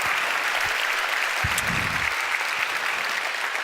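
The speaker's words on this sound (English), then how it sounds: "you're more than welcome to give them a round of applause" Audience applauding a speaker's family members in attendance at a talk, with steady, dense clapping that holds at an even level for several seconds and a few louder individual claps close by.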